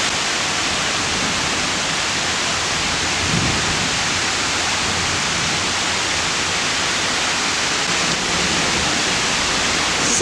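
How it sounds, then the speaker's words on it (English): Heavy pouring rain hisses steadily and loudly from start to finish during a fierce storm in Washington, with a low rumble of thunder swelling faintly near the three-second mark beneath the downpour. "It's pouring rain. And the thunder's really loud."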